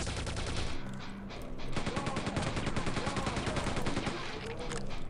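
Rapid repeated weapon fire from a grenade launcher in Quake II hammers away almost continuously, loud and close, with thudding blasts layered into a dense barrage.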